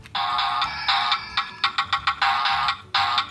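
A toy phone plays a bright electronic ringtone melody, a loud steady run of tones broken into quick staccato beeps partway through before the tune resumes, close by with no talking over it.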